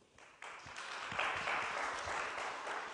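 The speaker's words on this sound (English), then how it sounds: "we have an applaud also from the audience" An audience at a conference panel on tuberculosis applauding, with scattered claps building quickly into steady, moderately loud applause that holds for several seconds.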